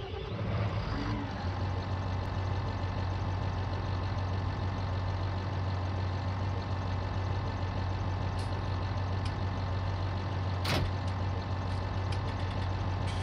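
A Fendt tractor engine idles steadily with a deep, even low hum and faint knocking texture, running alone without talk for the whole stretch.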